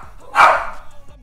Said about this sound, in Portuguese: Esse cachorro é terrível